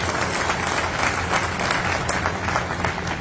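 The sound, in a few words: audience applauding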